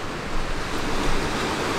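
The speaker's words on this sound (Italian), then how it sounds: "il vento tira da questa parte" Steady wind blowing against an outdoor overnight shelter with a tarp over its entrance, a continuous broadband rushing roar that stays fairly even throughout with no voices.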